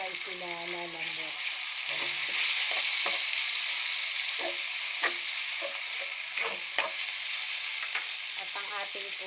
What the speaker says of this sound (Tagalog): habang niluluto natin yung ating kamatis guys, nilalagay na rin natin ang ating chicken